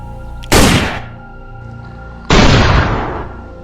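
Two loud, sharp gunshots about two seconds apart, each a sudden blast with a long ringing decay, over a low steady background hum.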